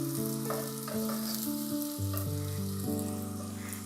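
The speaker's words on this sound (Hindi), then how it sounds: "प्याज को हम फ्राई करेंगे।" Onions frying in oil in a pan give a steady, close sizzle that runs throughout, mixed with a layer of sustained melodic background music.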